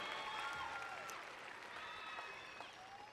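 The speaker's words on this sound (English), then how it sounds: "Give them a round of applause, ladies and gentlemen." A crowd at a high school graduation ceremony applauds the graduating seniors, a steady wash of clapping and cheering heard from a distance at low volume.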